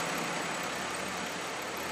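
A car engine idles evenly after an injector misfire clears, giving a steady, smooth broadband hum with no audible stumbles, close by and with no talk.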